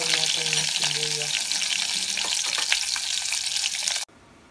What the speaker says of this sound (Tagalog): nagpainit natin ng mantika. Ito lang natin yung sibuyas.